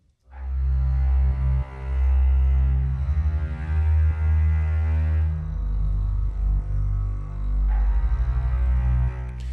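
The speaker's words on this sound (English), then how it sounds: "A very weird hybrid mix of a synthetic sound with the tonal qualities of a contrabass" A deep, sustained synth pad blends with a low bowed-bass tone, holding long droning chords with a dark, resonant low end.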